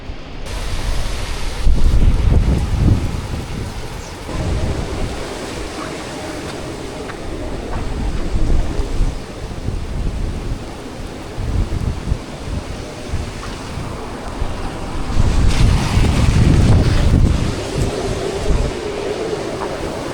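Typhoon wind and rain roar in Japan, a loud, continuous rush that swells into heavy gusts near the start and again later, with constant rumbling underneath.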